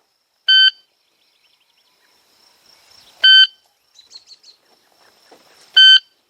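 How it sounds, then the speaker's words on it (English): Three sharp electronic shot timer beeps sound at irregular intervals, loud and clear, with faint rustling and small clicks between them. "then the beeps will come without any warning"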